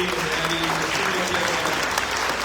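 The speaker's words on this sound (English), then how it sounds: "everyone, round of applause for JC and" A room of town hall attendees claps for JC and Abby, a dense, even burst of applause, fairly loud and continuous, with a voice faintly under it.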